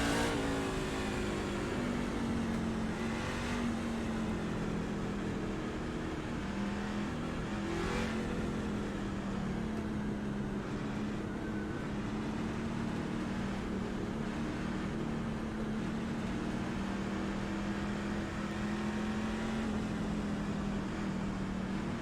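Pickup trucks in a racing video game at Richmond roar back up to speed at a restart, a loud continuous engine drone with rising pitch and occasional revving swells, no voices.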